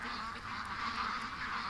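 A flock of ducks quacks loudly and continuously in a noisy, overlapping jumble, agitated and refusing to enter their pen for fear of a coyote.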